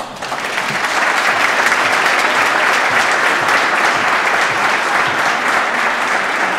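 Sustained applause from a large audience at a 2022 scholar athlete banquet, a dense, steady roar of clapping that swells in quickly and holds loud and even throughout with no talk over it.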